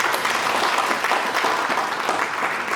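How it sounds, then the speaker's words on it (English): A workshop audience at Strathmore University gives a panelist a brief round of continuous applause, even and fairly loud throughout, with no pause. "A round of applause once more."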